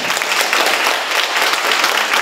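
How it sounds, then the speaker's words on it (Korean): Loud, dense applause from an audience thanking the panel and professor at the close of a Korean forum, continuous clapping throughout the short stretch with no talk. "감사의 뜻으로 큰 박수 보내주십니다"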